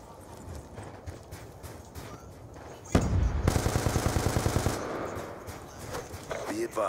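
Rapid SCAR rifle fire from Black Ops 2, a loud burst of evenly spaced shots with a slightly slow cadence, cutting in sharply over background game noise and lasting under two seconds before fading.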